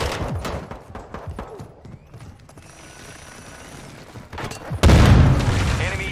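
Call of Duty Modern Warfare 2 multiplayer on PC: a scatter of gunshots and clanking action, then a loud grenade blast near the end, with a brief voice in the mix.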